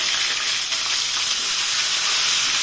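Onion and ginger sizzle in hot oil with cardamom, cloves, cinnamon and peppercorns, giving a bright, continuous hiss close to the pan. No one speaks.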